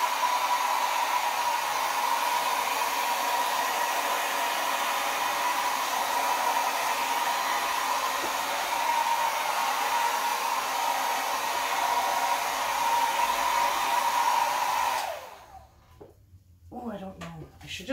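A hair dryer blows across acrylic pour paint on a canvas, a steady close-up whooshing roar lasting about fifteen seconds before it cuts off, followed by a few faint handling clicks.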